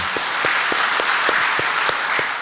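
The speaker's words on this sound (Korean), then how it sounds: "자, 우리 하나님께 영광의 박수 하겠습니다." A church congregation at Sinil Church claps together in steady, rhythmic unison, sharp even beats carried over a dense wash of room applause.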